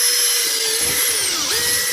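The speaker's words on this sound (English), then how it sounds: "So you hone the hole out by moving the drill like that." An electric power drill whines at high pitch, honing out a hole wide enough for wire during a 600-watt pure sine wave inverter installation, the tone wavering slightly as the bit is worked around.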